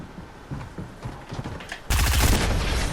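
Gunfire in the Fortnite video game begins as scattered single shots, then turns into a loud, sustained burst of rapid fire that carries to the end.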